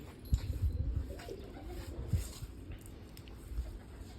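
Low, soft pigeon coos murmur close by, a few throaty calls overlapping against a quiet outdoor background.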